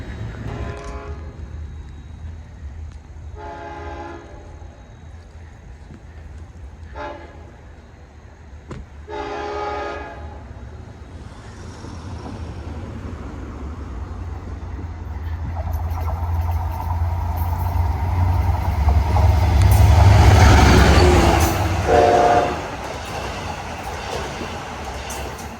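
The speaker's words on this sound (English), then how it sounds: "Work to Green Lawn was waiting behind an eastbound, which had an awesome K5LL horn." An eastbound Long Island Rail Road-area train on the Port Jefferson Branch sounds a K5LL horn in several separate chords, then rumbles past louder and closer with squealing wheels before fading.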